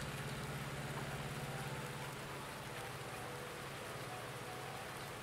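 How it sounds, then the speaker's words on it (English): Steady rain falls over a dark farm in the video game Farming Simulator 19, a constant even hiss with a low hum beneath, holding level throughout with no talk. "Hey, it's raining."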